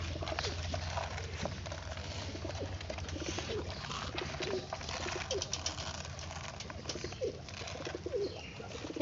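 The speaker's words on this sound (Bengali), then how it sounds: "এই পায়রার আওয়াজগুলো দেখি" Pigeons coo in a steady, soft gurgling rumble throughout, with several birds calling near and far over a constant background hum and occasional chirps.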